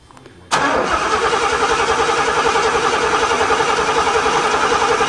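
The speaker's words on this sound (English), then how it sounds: "give her like four or five pumps, hold the gas down a bit, and see if she fires up" An old Oldsmobile car engine with a new carburetor cranks and then catches, settling into a loud, steady, close-up rumble that runs for several seconds.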